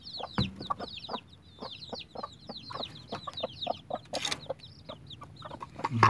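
Many small baby chicks peep in a busy, high-pitched chorus of short chirps, close by and continuous, with a few soft clucks beneath.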